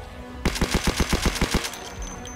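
Rapid burst of about eight gunshots from a weapon in Project Zomboid, evenly spaced and loud, firing in quick succession before stopping abruptly, with no talk over it.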